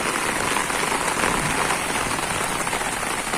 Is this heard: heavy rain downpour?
yes